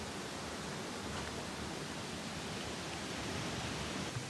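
The Coban waterfall on an Indonesian mountainside gives a faint, steady broadband roar that stays unbroken throughout, with no voices.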